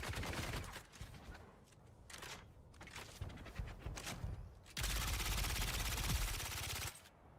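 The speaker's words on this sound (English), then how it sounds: "The weapon right there that you see me using, that's the Legion tattoo. That's the SMG." Rapid bursts of SMG fire from the Legion Tattoo in the video game Dune Awakening, loud and close, with short gaps between bursts and one long sustained stream near the end.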